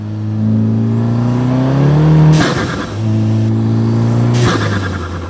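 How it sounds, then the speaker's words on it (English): A car engine revs up twice through a loud, rumbling aftermarket exhaust, each climb ending in a sharp crackling release before dropping back to idle. "I put a crazy exhaust system on this car, which sounds super rowdy."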